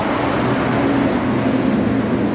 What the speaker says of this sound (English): There's trucks rolling past flat out